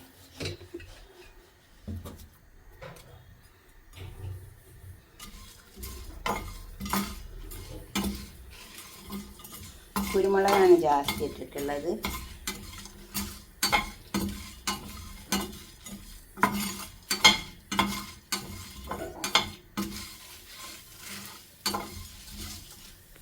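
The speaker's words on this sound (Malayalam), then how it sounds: "നമുക്ക് ഈ പൊടിയൊക്കെ ഈ ഇതിലിട്ടെടുത്തിട്ട് വറുത്തെടുക്കാം." Ground spice powder with plenty of black pepper and nutmeg is stirred and dry-roasted in a pan for mutton pepper gravy, giving repeated scraping strokes and a light sizzle, growing busier and louder partway through, with a brief spoken line.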